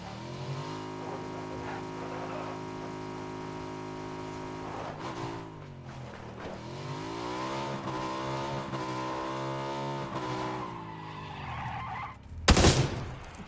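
A motorcycle rides in PUBG on PS5, its engine droning in steady harmonic tones that rise and fall with acceleration, ending in a loud, sharp skid burst near the end.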